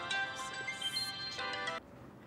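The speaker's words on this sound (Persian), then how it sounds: "این صدای زنگ تلفن ها" A telephone rings in a Persian TV drama scene: two bright electronic ring bursts, fairly faint and indoor, then the ringing cuts off into quiet room tone.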